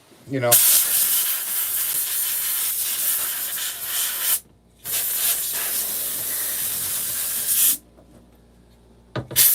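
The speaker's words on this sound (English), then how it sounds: "I use compressed air" Compressed air blasting out a chainsaw bar, a loud, close, sustained hiss in two long bursts with short breaks between them and a third burst starting at the end, no talking.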